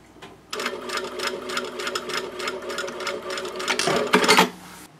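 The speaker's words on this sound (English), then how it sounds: "And pivot one more time and then sew up the side." A sewing machine stitches up the side of a fabric wristlet pouch, running steadily with a rapid rhythmic needle chatter for several seconds, close and clear, then speeding briefly before stopping.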